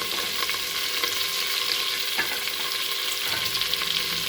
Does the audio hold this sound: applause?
no